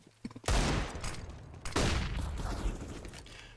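Gunfire in a Counter-Strike custom 5v5 match on the Inferno map, two loud bursts of rapid shots in quick succession, close and dense, each decaying into a rattling tail.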